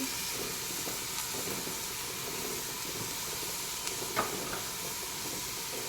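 Grated carrot and chilli with a little tomato frying lightly in a pan, giving a soft, steady sizzle and hiss close by, with a faint stir or clink near the end.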